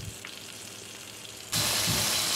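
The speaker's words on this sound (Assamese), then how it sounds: "ফালি থোৱা বিলাহীকেইটা দি দিছো আৰু এইখিনি অকণ সময় ভাজিম" Sliced tomatoes frying in hot oil with five-spice, a soft sizzle that jumps to a loud, crackling hiss midway as the pan heats up or the tomatoes are stirred.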